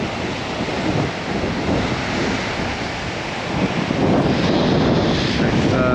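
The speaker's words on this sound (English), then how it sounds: "That wind's got a little bit more up, so tide's certainly well dropped." Steady wind gusting across Southbourne Beach in Dorset on the south coast with surf breaking at falling tide, a continuous broad roar and buffeting that swells louder near the end, with no talk.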